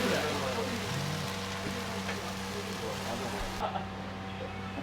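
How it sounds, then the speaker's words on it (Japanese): Heavy rain pours steadily outside a small countryside eatery in Japan, a dense, even hiss that fills the whole stretch, with a low hum and a few faint knocks beneath it. "もう大雨。"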